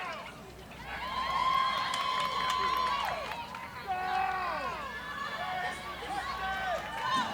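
Spectators at a 2008 USDAA Performance National Finals dog agility run shout and cheer loudly and continuously, voices rising and falling in a steady crowd roar through the whole stretch.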